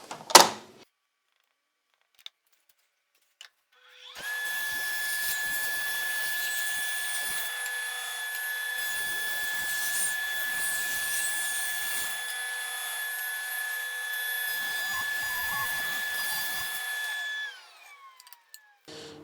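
A power saw rips wood strips down to 20 mm, spinning up and cutting with a loud steady whine for about thirteen seconds, then winding down, after a few sharp knocks at the start.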